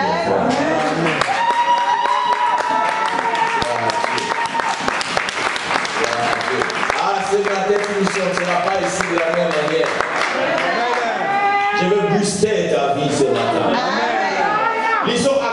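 A church congregation applauding steadily for about fifteen seconds, continuous clapping mixed with overlapping voices and cheers from a close, lively crowd.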